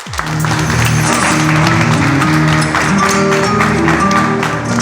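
An audience claps at a community anniversary celebration, heard as loud, sustained applause mixed with strong tonal sound, likely music playing alongside.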